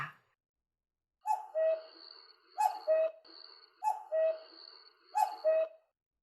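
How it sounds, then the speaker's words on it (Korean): A black-backed cuckoo calls repeatedly from fairly close by in a quiet temple forest, its four-note phrases coming in a steady rhythm with no other sound. "맞는다는 듯이 검은둥 뻐꾸기가 다시 울기 시작했다."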